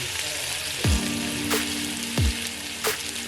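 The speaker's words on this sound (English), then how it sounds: "Browning my meat off now" Oxtail meat browning in a pan, a constant sizzle with a few soft thumps and clinks as pieces are moved around.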